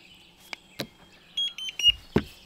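A Thermacell device gives a quick run of short, high electronic beeps, preceded by a few scattered clicks and handling knocks, close and fairly clear.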